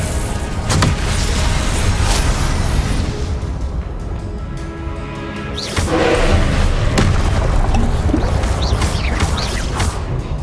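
Spell blasts during a Giant Soldier boss fight in the video game Hogwarts Legacy, deep booms and heavy thuds over a dense, continuous roar, with a stronger surge of impacts in the second half.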